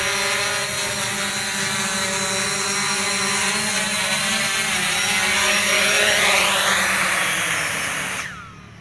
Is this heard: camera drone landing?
yes